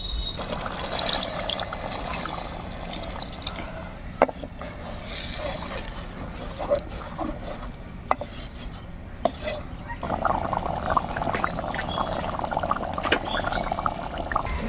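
Water pours steadily into a fish curry cooking in a clay pot, a continuous close trickle and splash that swells louder near the end, with faint kitchen noise beneath.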